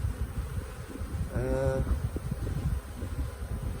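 Honeybees hum steadily around an open beehive during an inspection, a soft continuous buzz under handling noise and rustling, with a brief voice or tonal sound rising partway through.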